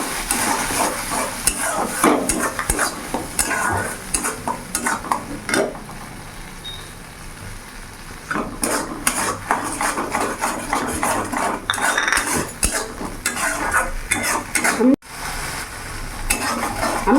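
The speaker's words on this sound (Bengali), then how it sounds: "আর এখানে একটু হাফ চামচের মতন হলুদ দিয়ে দিলাম সামান্য একটু লঙ্কা গুঁড়ো দিলাম আমি ভালো করে নাড়াচাড়া করে নেবো" Fish being stirred in a pan with turmeric and chili powder for a hilsa mustard dish, a busy run of spoon scrapes and clanks over steady frying sizzle, close and fairly loud with a brief pause midway.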